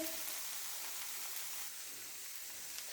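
Yippee noodles frying with onions in a pan give a steady, soft, hissing sizzle that runs evenly throughout, fairly quiet, with no talking.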